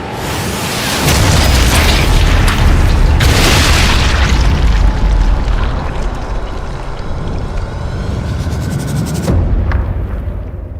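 A loud, booming grenade blast in a video game rolls out as a long, heavy rumble for several seconds, then fades, with a second swell near the end.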